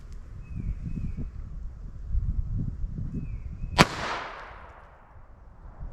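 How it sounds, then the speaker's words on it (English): A .22 Long Rifle pistol fires a single sharp, loud crack through a chronograph outdoors, with a brief echoing tail, preceded by soft rustling and low wind noise. "So 22 long rifle. Let's see what kind of velocity I get out of this pistol here."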